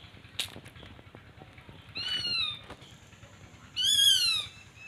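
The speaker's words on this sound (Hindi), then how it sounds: "वो दूसरा बादशाह जो है ना स्पैरोहॉक, वो कॉलिंग कर रहा है, बोल रहा है, आवाज़ निकाल रहा है।" A sparrowhawk calls outdoors during a hunt, giving two bursts of high, thin, rapid squealing notes over a faint background hum.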